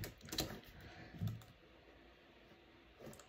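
Keys on a computer keyboard are tapped in a few light, quiet clicks, with a short burst at the start and another near the end over a soft room hum.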